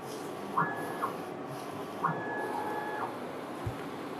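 A Focus Alpha-Jet 14 print head runs a vertical calibration test, its carriage motor whining in two steady passes, a short one then a longer one, over a constant low hum with faint clicks.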